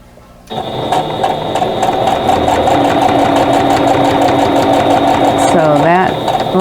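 A sewing machine stitches quilt block units together, starting abruptly and then running in a steady close rhythmic whir for several seconds, with a brief voice near the end.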